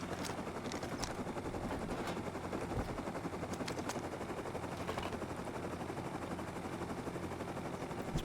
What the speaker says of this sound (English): It's my first time being a passenger in a helicopter.